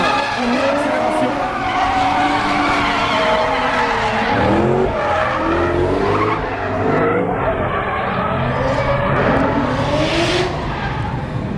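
A 500 hp BMW drift car on the Falken Drift Team display at the 2013 International Motor Show in Luxembourg screams through a long, loud skid, its engine note rising and falling over sustained tire squeal, with engine and tire noise running throughout.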